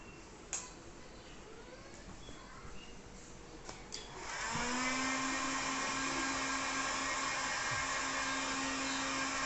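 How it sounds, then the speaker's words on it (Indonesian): A heat gun switches on and blows a steady, loud rush of hot air with a constant whine onto expired screen-printing emulsion, after some quiet handling noises. "kenapa saya pakai hot gun ini"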